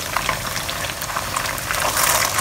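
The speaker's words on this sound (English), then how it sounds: "Just fry them until they are golden brown." Fritters for Singapore-style Malay mee rebus fry in hot oil over medium-low heat, giving a steady bubbling sizzle with scattered crackles, close and continuous, with no voices.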